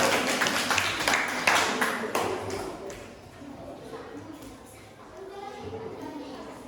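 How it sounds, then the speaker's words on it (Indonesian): Students in a classroom applaud a student group with dense, close clapping that gradually thins and fades, with voices heard faintly beneath it. "Silakan, tepuk tangan dulu untuk kelompok anak manja."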